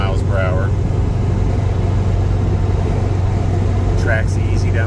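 A 1969 MGB convertible cruising at 55 mph near 3,000 rpm, a steady, loud engine hum with road rumble, and someone talking over it at the start and end.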